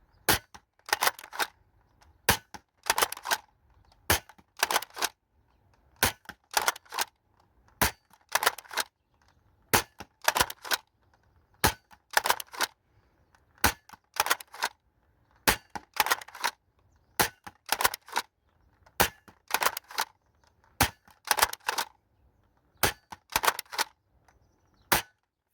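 A Dart Zone Stryker toy blaster fires foam darts in sharp, loud, close cracks, mostly single shots with quick doubles and small bursts spread over about twenty-five seconds, with no talking.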